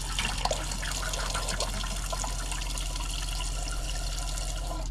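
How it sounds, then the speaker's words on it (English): Water runs steadily through the tap of a self-built Ford Transit Custom campervan, fed by the onboard water pump, a continuous close trickle and gush with a low electrical hum beneath and no talking. "That's the water pump. The bottom one's the water pump."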